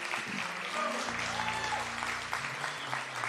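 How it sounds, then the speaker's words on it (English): Audience applause at an African American Contractors Association Day event, a steady wash of clapping that runs the full length with no voices on top. "you deserve this round of applause"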